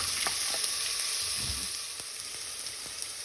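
French beans, peas and other vegetables for pulao sizzle steadily in a pan, a constant close hiss with a few faint clicks of stirring, no voices.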